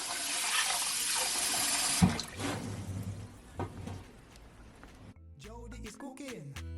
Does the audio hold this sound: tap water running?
yes